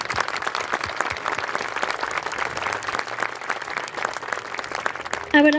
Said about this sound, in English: So please join me in giving them a round of applause to show their appreciation.